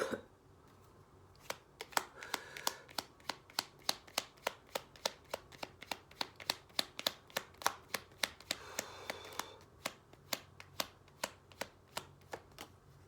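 Tarot cards being shuffled by hand, heard up close as a long run of crisp, evenly spaced clicking snaps over a quiet room, with no talking.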